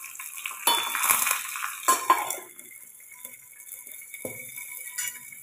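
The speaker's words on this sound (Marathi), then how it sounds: "त्याच्यावरती मी झाकण ठेवणार आहे" A lid is set on a pan holding green chillies in tempering oil, giving a couple of close metallic clanks and clatters, then a quieter light knock amid soft kitchen background.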